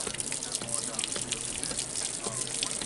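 Water gushes steadily out of a drained RV hot water heater tank during an anode change, a dense, continuous splashing rush that stays loud and even throughout.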